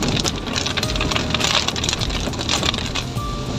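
Steady rain falls in a dense, continuous patter during a trip along a muddy route, loud and close throughout with no talk.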